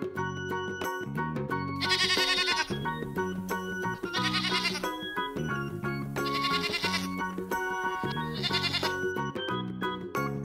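Goats bleat repeatedly, drawn-out wavering cries in a steady rhythm, set over a busy musical backing that continues throughout.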